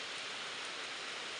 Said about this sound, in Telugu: ఎంత వర్షం అంటే ఎంత వర్షం అస్సలు.